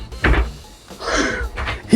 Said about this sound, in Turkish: Bakalım merak ediyorum sıkınca kapı kendisini çektirecek mi?